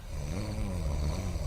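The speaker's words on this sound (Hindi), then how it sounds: "देख, चौकीदार अंकल क्या मस्त खराटे मार रहे हैं।" A night watchman snores loudly while asleep in a Hindi horror audio drama, deep rasping breaths rising and falling close by, heard alone.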